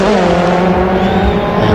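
A Citroën Xsara rally car prepared by PH Sport drives flat out on a special stage of the Monte-Carlo Rally, its engine a steady, loud, continuous roar with faint tire noise throughout.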